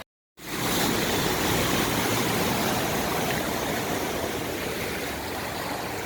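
Floodwater rushes steadily along a street in Madipakkam, a loud continuous roar of flowing water with no voices.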